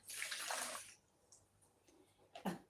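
Milk poured into a measuring cup for a chocolate cake batter, a steady liquid splash for about a second, then a quieter pause and a short second pour near the end.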